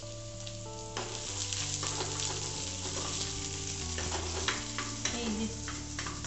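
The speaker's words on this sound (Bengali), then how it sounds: "কড়ায় তেল দিয়ে পেঁয়াজটা ভাজতে দেওয়া হয়েছে" Onion frying in oil in a hot wok, a steady close sizzle with repeated scraping stirs and clinks of a utensil against the pan throughout.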